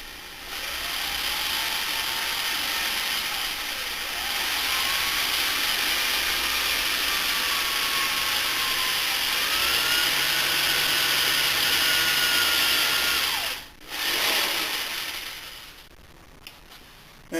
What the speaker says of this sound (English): that's how quick it actually drills out